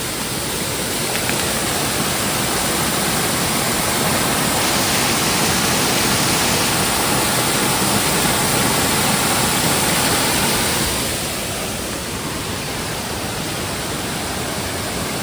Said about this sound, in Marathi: हा बघा तो धबधबा आहे